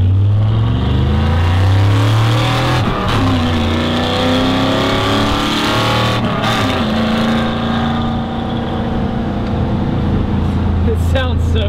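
A loud 1971 Ford F100 truck engine revs close by, its deep rumble rising and falling in several throttle blips, with people talking over it.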